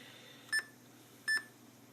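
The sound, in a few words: ThinkPad T21 laptop beeping when screen is adjusted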